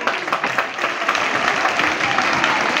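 A school audience claps together at a Hindi Day gathering, a fairly close, lively burst of many hands with uneven rhythm that holds steady for a few seconds.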